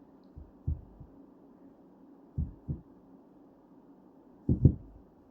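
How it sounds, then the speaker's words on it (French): Soft, accidental heartbeat-like thumps come in three paired bursts, low and muffled, spaced a couple of seconds apart against quiet room hum with no talking. "Ça faisait un battement de cœur sans faire exprès."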